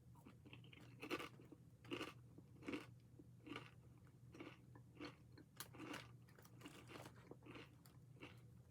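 Crunchy bites and chewing of sauced barbecue kettle chips, close and fairly quiet, with about a dozen crisp crunches spaced irregularly over a steady low hum and no talking.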